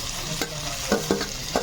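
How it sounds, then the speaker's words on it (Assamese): Tomatoes and vegetables sizzle steadily in a pan while a spoon stirs them, making four or five sharp scraping strokes over the constant frying hiss. "সেইটো বিলাহীখিনি সিজিবৰ কাৰণে অকণমান ফ্ৰাই কৰিব লাগিব"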